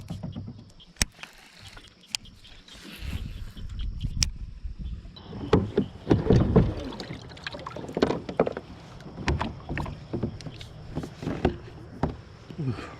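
Paddle strokes push a bass-fishing boat through shallow water, with soft irregular splashes and knocks against the hull close by. Occasional low voices sound faintly underneath.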